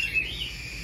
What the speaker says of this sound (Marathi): यो ग्रे कॉकटेल आहे आणि फुल टेम आहे।